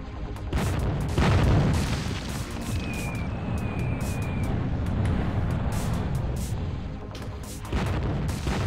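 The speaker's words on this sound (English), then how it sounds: "I'm dropping nukes on them." Nuclear explosions in the strategy video game Zero-K rumble as a dense, continuous roar of booms and blasts, with heavier detonations surging near the start and end.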